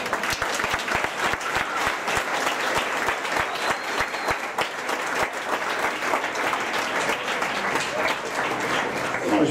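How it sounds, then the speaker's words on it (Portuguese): Steady applause from guests at a wedding ceremony, a full crowd clapping in a dense, continuous rhythm at close range that stays loud throughout. "Vamos aplaudir ao Senhor."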